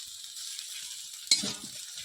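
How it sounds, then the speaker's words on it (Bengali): Chopped onion, tomato and green chili fry in a pan, a steady soft hiss that swells into a louder sizzle partway through, with no talking. "এটা একটু হালকা ভেজে নেবো"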